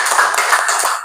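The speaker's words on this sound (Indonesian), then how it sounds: "Tepuk tangan." Schoolchildren in a classroom clap together for a classmate, a brief, loud flurry of small hands clapping up close with no talk over it.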